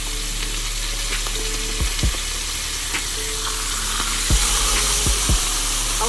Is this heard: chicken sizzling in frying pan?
yes